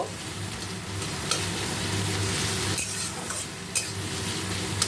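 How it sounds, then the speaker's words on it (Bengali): Onion, green chili and crushed garlic frying in oil, a dense continuous sizzle with occasional scrapes and clicks of a stirring utensil against the pan. "এবারে তেলের মধ্যে আমি ভাজা ভাজা করে নেব।"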